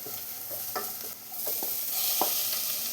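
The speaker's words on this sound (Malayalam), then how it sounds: "ഇനി നമ്മൾ മാരിനേറ്റ് ചെയ്ത് വെച്ചിട്ടുള്ള കക്കയും കൂടെ ഇപ്പോൾ ഇതിലോട്ട് ചേർത്ത് കൊടുക്കാം." Marinated clam meat goes into a hot frying pan, giving a soft sizzle with a few sharp spatula scrapes and clicks as it is stirred, then a rising hiss of frying toward the end.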